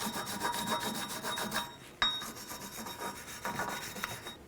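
Rust and buildup are scrubbed off the rear brake hub surface of a 2004-2008 Nissan Maxima in brisk, rasping back-and-forth strokes, close up, with a short pause midway and no talk.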